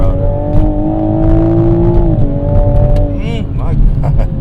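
A Toyota GR Supra engine drones loudly from inside the cabin as it pulls with steady harmonic tones, then eases off and shifts partway through, with faint talk underneath.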